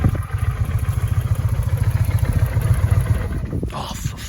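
A 2005 Kawasaki Vulcan VN800 motorbike idles close by after being jump-started from a car, its engine giving a loud, steady, rhythmic low thumping that falters near the end.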